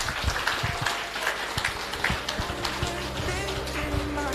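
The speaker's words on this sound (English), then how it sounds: "a big round of applause for Ducks" An indoor crowd at a rugby club awards evening claps for the Women's League Cup winners, a dense continuous round of applause at moderate distance.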